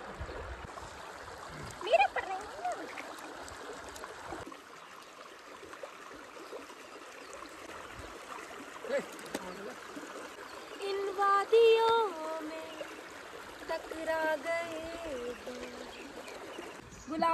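A large river in India, partly dammed, flows with a soft steady trickle and stream, fairly quiet and continuous, with faint chirps and scattered background sounds over it.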